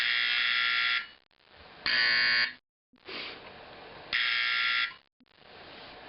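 A loud, buzzy Simplex 4051 fire alarm horn, converted toward a 4050, blares in on-off bursts, cutting out between blasts and sounding harsh and rasping.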